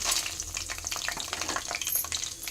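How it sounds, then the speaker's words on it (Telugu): Cinnamon, cloves and coriander seeds fry and sizzle in hot oil for a stuffed brinjal curry, a steady loud crackle with stirring scrapes and no voices. "ధనియాలు కూడా వేసేస్తూ ఉండానండి చూడండి ఈ విధంగా లైట్గా వేయించుకోండి"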